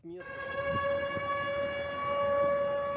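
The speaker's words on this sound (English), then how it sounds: "Sirens sounded in the Russian city of Belgorod during the day as reports of the incursion began to emerge." An air raid siren in the Russian city of Belgorod gives a steady, loud, sustained wail that holds one pitch after a brief rise at the start, with faint background thuds beneath it.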